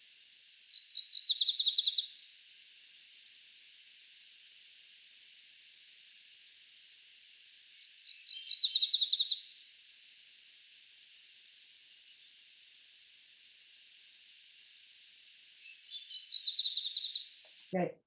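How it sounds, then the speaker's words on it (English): MacGillivray's warbler singing three separate short, buzzy, rolling phrases spaced several seconds apart, moderately near and alone over faint steady background hiss. "Okay, so that's McGilvery's warbler."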